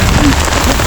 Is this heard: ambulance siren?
no